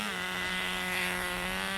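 Nitro RC car engine idling and revving on a rich mixture, a steady buzzing drone with strong harmonics, close and continuous for the whole stretch with no voices.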